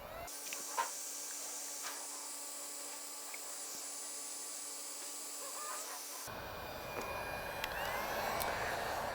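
Heat gun or torch hissing steadily while shrinking heat shrink tubing over SnowDogg 16160900 Low Pro plow light wiring, a continuous airy blast that changes tone partway through.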